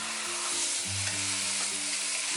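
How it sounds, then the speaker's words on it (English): Ground beef with fresh ginger fries in a pan, giving a steady, loud, close sizzle that runs throughout, with a low hum underneath and no talking. "We want the beef to try to fry a little bit, but you have to do it until it's pretty much cooked."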